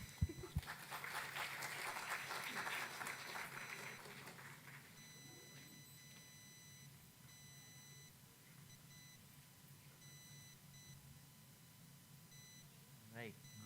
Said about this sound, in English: Maybe a round of applause for him.